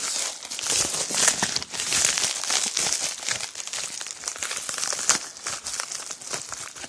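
Paper crinkles and crumples steadily near the microphone, a dense, continuous rustle with small louder crackles and no speech.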